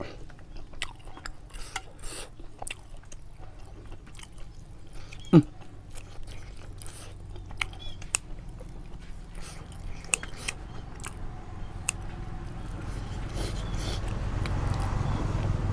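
Someone gnaws and chews baked pork intestine close up, with steady wet crunching and biting sounds repeating throughout and one sharper crunch partway through.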